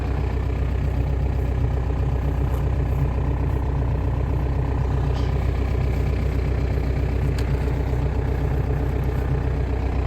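A VW TDI diesel engine idles after a cold start, a loud, steady low rumble with a continuous clattering rhythm that holds unchanged from start to finish.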